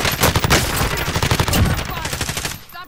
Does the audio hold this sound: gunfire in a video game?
yes